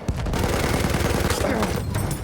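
Machine gun fire in the video game Battlefield 1, a rapid burst of loud, close shots merging into a sustained roar of gunfire and battle noise.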